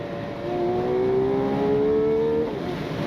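A 2026 Ferrari 12Cilindri's V12 engine revs hard toward a 9,500 rpm redline, a loud, close, rising wail that climbs smoothly for a couple of seconds before easing off as the next gear arrives.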